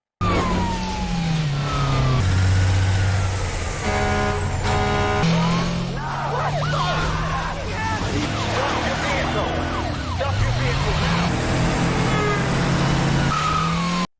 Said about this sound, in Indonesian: Sopir truk melaju kencang di jalanan, mencoba memacu kendaraannya lebih cepat dari polisi.